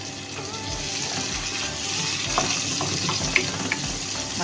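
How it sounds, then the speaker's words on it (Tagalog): Garlic and chili pepper frying in a pan for a tuna egg fried rice, a steady close crackling sizzle with a few sharper pops and light utensil taps. "pag nag-golden brown na ang ating garlic, isunod natin ang ating chili pepper"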